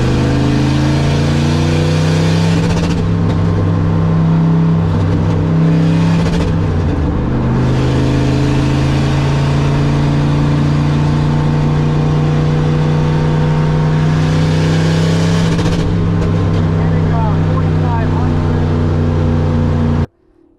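A Corvette V8 engine holds a loud, sustained high rev and bounces off an artificial 4,500 RPM limiter that cuts fuel, giving a droning roar with slight wavering throughout before cutting off sharply at the end.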